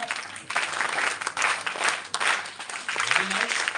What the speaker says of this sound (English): So let's start with Agastya clap. It is very simple. It goes like this: 1, 2, 3, 1, 2, 3